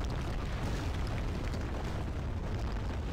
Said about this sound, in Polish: No i wulkan wybuchł.